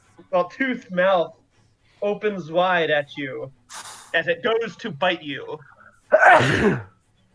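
A single loud sneeze bursts out near the end, close and sharp, following stretches of people talking.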